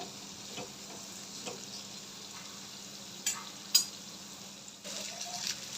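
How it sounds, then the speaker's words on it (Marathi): Chopped onions fry in oil over a high flame for cashew mushroom masala, giving a steady soft sizzle with a couple of faint utensil clinks, and no voices. "हे कांदा ना थोडासा गोल्डन ब्राऊन कलर येईपर्यंत आपल्याला तेलात परतून घ्यायचं आहे"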